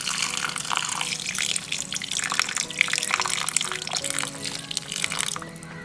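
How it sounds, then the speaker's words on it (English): Water is poured into a pan of spicy crab masala, splashing and trickling unevenly for several seconds before tapering off. "We can add water 1 cup."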